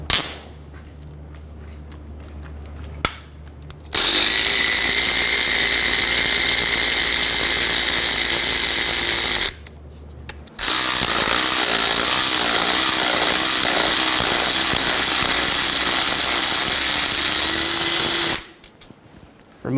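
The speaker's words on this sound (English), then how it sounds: "I'm going to break these bolts free and then use an electric tool to remove them." An electric power tool whirs in two long sustained bursts, roughly six and eight seconds each, spinning out 13mm bell housing bolts on a 2000-2007 Ford Focus during oil pan removal, with brief quiet pauses between runs.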